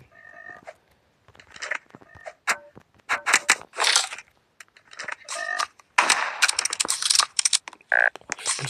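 Rapid volleys of gunfire from a first-person survival game set in a forest, aimed at wild boars, cracking out in sharp bursts with brief pauses between shots and other in-game effects.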